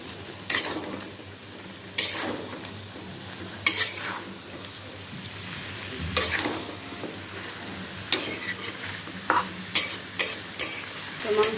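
Meat and small potatoes fry in spice masala, a soft sizzle broken by a utensil scraping and knocking against the pot in irregular bursts, close by and fairly quiet, without speech.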